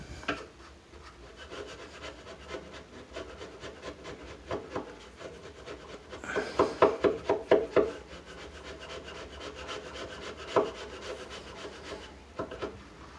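A hand scraper rasps clear coat off the inner edge of a wooden cabinet face frame in repeated close scratchy strokes, building to a cluster of harder, louder scrapes in the middle.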